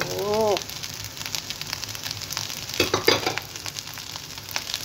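Rice and lettuce fried together in a pan for fried rice: a dense, steady sizzle with crackling bursts as the food is stirred midway, a short voice at the very beginning.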